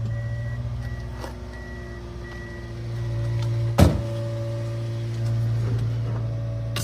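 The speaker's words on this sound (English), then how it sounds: "Leave the key on, then it beeps." A vehicle left with its key on gives off a steady electronic warning tone that holds for the whole stretch. One brief sharper knock lands midway, and there is no talk over it.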